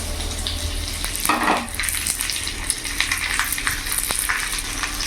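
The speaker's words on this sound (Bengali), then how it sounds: "এবার ওই তেলের মধ্যে এই লম্বা লম্বা কেটে রাখা আলুগুলো ভেজে নেব।" Long-cut potato sticks frying in hot oil, a continuous close sizzle and bubbling hiss with occasional stirring clatter and a brief splashy burst, no voices.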